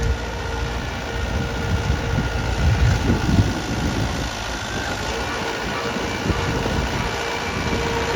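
A Mahindra 595 Sarpanch Turbo tractor engine runs steadily nearby, a continuous low diesel rumble that holds level throughout, with no voices.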